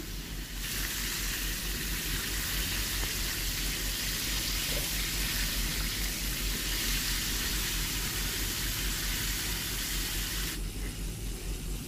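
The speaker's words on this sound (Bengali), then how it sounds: "এই পর্যায়ে আমি হাই হিটে চিকেনটা ফ্রাই করে নিচ্ছি" Chicken pieces for KFC-style crispy fried chicken fry together in oil on high heat, a steady loud broadband sizzle that barely changes, close and alone without voices.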